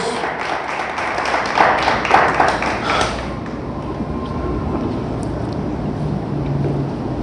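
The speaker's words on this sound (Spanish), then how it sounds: "Le damos un fuerte aplauso a Dios" Church congregation applauding for God during a Spanish-language sermon, a burst of clapping with a few louder claps for about three seconds, then fading into quiet room noise.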